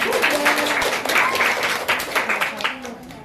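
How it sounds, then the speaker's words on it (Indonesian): A small classroom group claps in scattered applause for a few seconds, fairly close, with voices mixed in. "tepuk tangan dulu buat Hasan."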